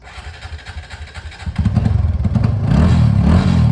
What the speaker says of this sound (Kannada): ಥ್ರಾಟಲ್ ರೆಸ್ಪಾನ್ಸ್ ನೋಡ್ರಿ.